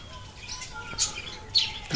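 Caged birds kept beside resort cottages give a few short, high chirps and tweets against quiet outdoor background, with no talk.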